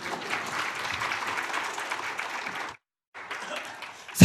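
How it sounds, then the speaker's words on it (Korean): An audience at a church gospel meeting in Seoul claps in a steady burst, breaks off into a brief silence, then starts clapping again. "자 들어가서 이제 또 한번 박수 쳐주시고"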